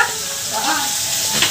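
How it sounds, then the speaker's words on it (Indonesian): Anchovies (teri) fry in a pan with a steady hiss and crackle of hot oil. Faint stirring scrapes and small pops run through it, and nobody talks. "Terine goreng dhewe"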